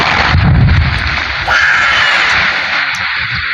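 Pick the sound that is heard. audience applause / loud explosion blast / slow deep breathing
loud explosion blast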